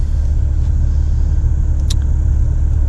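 A running car judged mechanically sound, idling steadily with a loud, continuous low rumble that holds even throughout, no talking over it.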